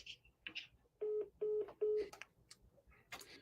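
Three evenly spaced electronic keypad tones from a phone while calling a home seller, each short and clear, with faint rustling and a few soft clicks between them and no voices.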